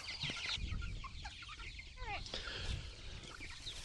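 Chickens clucking and squawking close by, mixed with a person's voice and rustling movement.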